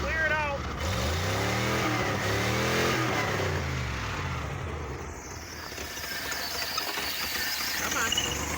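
Car engine on a brisk winter day of about 20 degrees, revved to clear it out so it will idle: a steady mid-pitched engine note rising and falling through revs, continuous and fairly close throughout.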